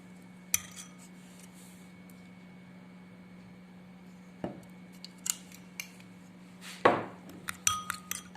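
A homemade cough remedy being mixed with olive oil in a bowl, with scattered metallic clinks and scrapes of a utensil against the dish, sparse at first and then quicker near the end, over a low steady hum.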